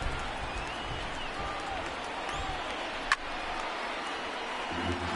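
Roar of a 39,000-strong baseball stadium crowd on its feet in the ninth inning, a steady broadband wash of cheering and applause with one sharp click partway through.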